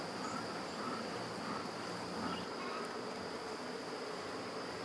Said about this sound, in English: And already we've got a lot of bees.